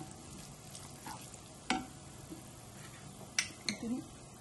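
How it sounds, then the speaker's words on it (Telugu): Tempering for South Indian tomato chutney sizzles softly in hot oil, a quiet crackle broken by a few sharp spatters and pops and a light clink of a pan, with faint voice in the background. "మనం మన టమాటా పచ్చడికి తిరగమూత వేసుకుంటున్నాము"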